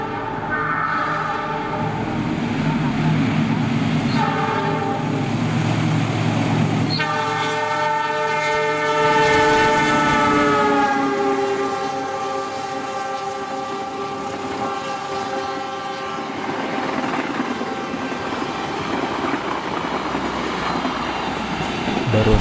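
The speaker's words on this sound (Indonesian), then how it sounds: "Barusan kereta api Argo Parahyangan 44." The Argo Parahyangan 44 passenger train passes close by in Indonesia, a loud rolling rumble with clattering wheels and a long, strong blast of its horn midway.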